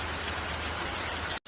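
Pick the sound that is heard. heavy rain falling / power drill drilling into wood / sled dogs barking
heavy rain falling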